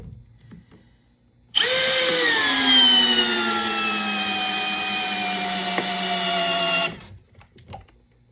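Bosch drill in drill mode on speed 1, powered by a Ceenr replacement battery, spinning up to a steady high-pitched motor whine for about five seconds, close and loud, then stopping abruptly.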